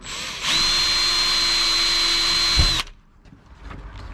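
A power drill with a 1/8 inch bit bores into the metal frame of a storm door. After a short pause it spins up to a steady high whine for about two seconds, then stops with a small clunk.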